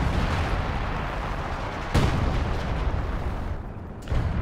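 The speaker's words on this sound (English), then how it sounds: "The first time I've ever seen this artillery actually wipe anything." Artillery shells landing in a Company of Heroes 2 match, a steady rumble of battle with two sharp, heavy blasts standing out, one midway and one near the end, with no voices.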